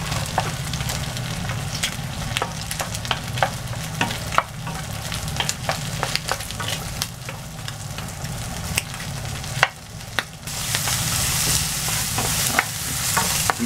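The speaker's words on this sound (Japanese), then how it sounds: "はい、炒めますね。 ここでマッシュルームと椎茸を入れます。" Chicken thigh and breast stir-fried in a pan with mushrooms and shiitake give a steady, close sizzle, broken by frequent sharp clicks and scrapes of a utensil stirring, with no talking.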